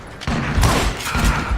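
Gunfire in the Western shooter video game Call of Juarez Gunslinger: a loud, dense burst of overlapping booming shots and reports lasting over a second.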